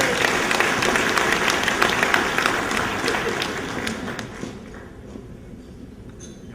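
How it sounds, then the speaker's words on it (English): Applause from a crowd of guests at a Rotary Club district governor's banquet, a dense steady clapping that fades away toward the end. "Please give them a round of applause."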